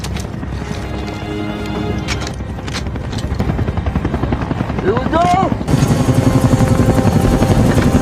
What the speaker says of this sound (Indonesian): Malam hari satu persatu mereka segera turun dari helikopter